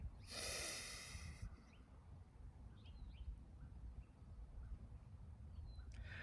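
A single forceful exhale through one nostril during alternate nostril yoga breathing, a close, breathy, hissing rush lasting about a second, followed by quiet, softer breaths and faint bird chirps in the background.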